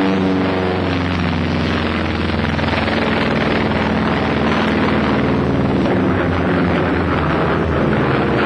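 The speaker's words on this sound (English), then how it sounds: "A new type of bomber ready for its tryout." Martin B-26 Marauder bomber aircraft in flight, a loud, continuous engine and propeller drone that stays steady and close throughout, with no voices.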